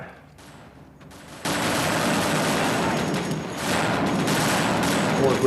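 Gunfire in a World War video game: after a quiet start, a sudden loud barrage of rapid shots and distant booms carries on steadily to the end.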